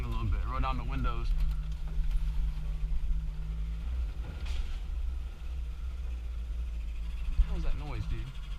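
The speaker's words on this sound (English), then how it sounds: "Hear this engine sing a little bit." A manual four-wheel-drive car's engine hums low and steady inside the cabin while driving, with a lower rumble shift partway through, as people talk over it.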